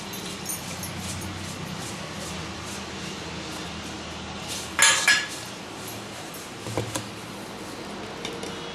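A spoon stirring kadhi bhaji batter seasoned with red chili powder and salt in a bowl: a few sharp metallic clinks and scrapes stand out against a quiet background, with a softer clink following a little later.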